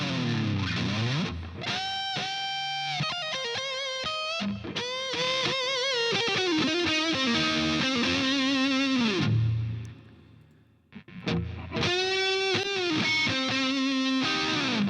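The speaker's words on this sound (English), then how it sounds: "Let's have a listen to the lead guitar now." Distorted electric lead guitar processed with Focusrite Red 2 EQ and Red 3 compressor plug-ins plays sustained bending notes and quick runs, loud and upfront, with a brief drop to near quiet before the phrase resumes.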